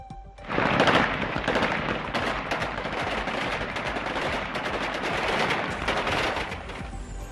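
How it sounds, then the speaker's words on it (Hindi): Sustained bursts of gunfire as gunmen shoot into the air outside Kabul airport, a dense, continuous rattle of rapid shots lasting the whole stretch with no voices. "काबुल एयरपोर्ट के बाहर बंदूकधारियों ने की हवाई फायरिंग।"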